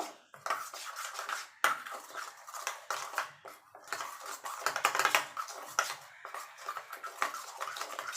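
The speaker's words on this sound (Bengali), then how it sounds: "চিনি দিয়ে দেবো নুন দিয়ে এগুলো ভালো করে ফেটিয়ে নেব" Sugar and salt being whisked into a mixture for a vegetarian aloo dum recipe, a dense run of rapid light clinks and taps from the whisk against the bowl, steady and close with no talking.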